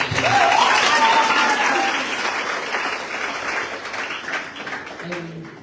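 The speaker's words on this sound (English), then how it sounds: "Give him a round of applause." Audience at a campus conversation seminar at a university in Botswana breaks into loud, sustained applause that slowly fades, with a voice briefly heard over the clapping.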